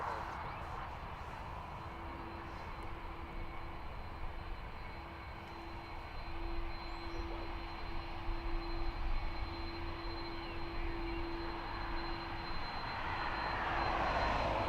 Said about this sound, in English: So this aircraft is off to Las Vegas, flight EI-51, 5-year-old A330 300 series.